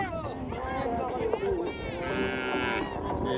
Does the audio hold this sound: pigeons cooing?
no